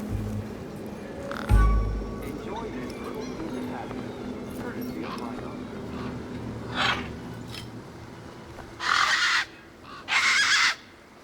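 Tough desert birds squawk in Beyond a Steel Sky, two harsh loud bursts near the end after scattered quieter calls and a low thud over steady game ambience.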